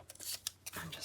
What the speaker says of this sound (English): I'm just going to cut these.